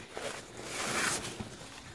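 A parcel is unwrapped close up, with rustling, crinkling packaging and a swell of handling noise in the middle, broken by soft taps.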